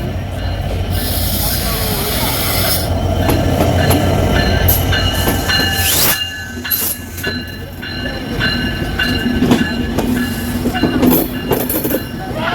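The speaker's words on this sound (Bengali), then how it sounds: "আন্তনগর চিত্রা এক্সপ্রেস আলমডাঙ্গা প্রবেশ করছে" The Chitra Express intercity train rolls into Alamdanga station with loud rumbling wheels, clanks and squeals close by, and people talk over the noise.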